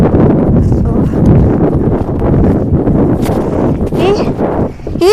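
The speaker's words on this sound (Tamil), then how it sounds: "ஆமாம் அந்த காற்று தள்ளி விட்டுற போல இருக்கு அப்படி அடிக்குது பயங்கரமா" Strong wind blows across open ground, buffeting the microphone with a loud, continuous roar that rises and falls in gusts, while voices are heard briefly.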